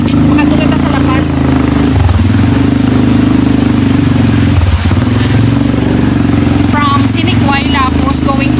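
Motorcycle ride through flooded streets of La Paz, Iloilo City, with a steady engine drone and clattering throughout, plus people talking over it.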